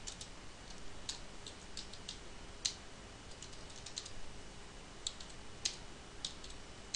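Keys are tapped on a computer keyboard while code is entered, producing faint, scattered clicks and taps at an uneven pace over a steady low hiss, with no speech.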